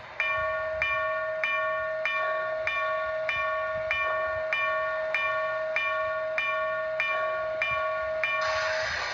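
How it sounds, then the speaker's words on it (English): A Broadway Limited Paragon 2 HO scale Southern Pacific GS4 model steam locomotive's bell clangs in a steady, even rhythm, about once every 0.6 seconds, bright and ringing, with a low mechanical hum underneath and no voices. "The bell sounds pretty good on the engine"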